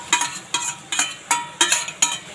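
Tomato and onions stir-fried in a pan, heard as sharp rhythmic scraping strokes of a spatula against the pan, about six evenly spaced bursts close up with faint sizzle between them.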